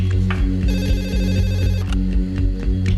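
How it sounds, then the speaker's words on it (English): Old-style telephone bell ringing late at night, a steady repeating electric ring with a low droning hum beneath, close and loud, no voices. "a late-night phone call wakes Dr. Bandari"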